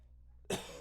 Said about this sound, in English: Quit coughing.